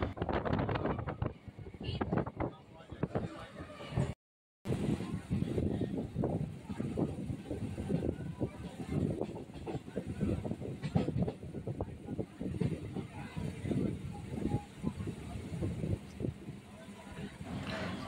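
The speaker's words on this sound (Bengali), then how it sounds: "ট্রেন এখন কোন্নগর প্ল্যাটফর্মে ঢুকছে।" A train runs into Konnagar platform in Hooghly district, West Bengal, on the Bali to Goghat route; a constant rattling rumble with wind buffeting the microphone, briefly cutting out, and people talking over it.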